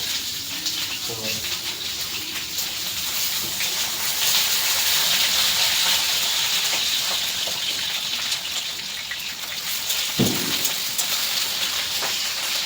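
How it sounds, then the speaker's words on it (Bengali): Potatoes frying in hot oil give off a steady crackling, hissing sizzle like rain, continuous throughout, with a person talking over it. "তো আলুটা যেহেতু ভাজছি"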